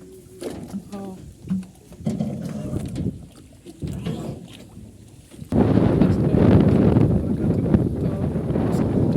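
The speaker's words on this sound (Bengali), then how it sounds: "এখানে কিন্তু প্রচণ্ড বাতাস আর চতুর্দিকে প্রচণ্ড বাতাস" Strong wind gusts roar across the microphone during a boat crossing on the river at Banglabazar, Munshiganj, with someone talking in the first half before the rushing wind swells louder and steadier.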